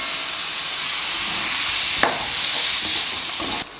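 Chicken pieces going into a tomato gravy for chicken roast, frying with a steady close sizzle while a spoon stirs and scrapes the pan in a few brief strokes.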